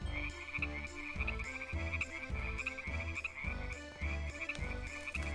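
Frogs croak from a balloon in the video game Deiland, a dense chorus of low, rhythmic croaks repeating in quick pulses over a steady high tone, loud and continuous.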